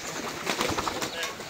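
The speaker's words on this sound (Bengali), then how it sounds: "আমার এই যে কবুতরগুলো ধীরে ধীরে সব কবুতর চলে আসতেছে বাসায়" Native pigeons flock back to their home loft, giving a brief, soft burst of bird sounds with faint cooing and fluttering over a noisy background.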